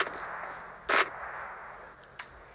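A weapon fires single shots at a distance in PUBG Mobile, with one sharp crack followed later by a second, fainter report over a quiet background.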